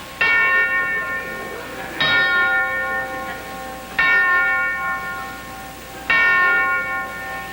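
A bell on a 1950s television game show struck four times at an even, unhurried pace, each loud ring fading slowly before the next, with no talk over it.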